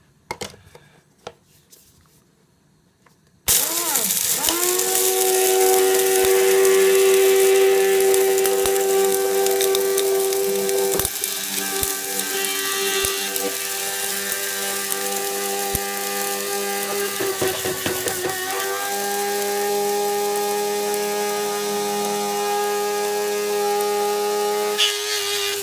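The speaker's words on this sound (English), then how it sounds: "empty all that in to the spice blender." Electric spice blender grinding cooled toasted whole spices into Madras curry powder, starting after a few quiet seconds with a loud, steady motor whine and rattling grind that runs on continuously, dipping briefly midway before resuming.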